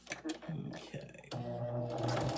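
A home sewing machine fitted with a 1/4 inch quilting foot stitches in a steady whirring run, starting after a few short bursts and then sewing continuously, close by, with someone talking over it.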